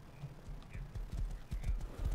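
Horse hooves clip-clop in a video game during a raid session, a quick steady run of close, muffled thuds repeating alone through the moment.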